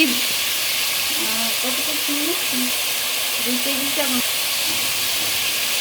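Potatoes hit a hot pan and sizzle with a steady close hiss, while a voice talks faintly over the frying.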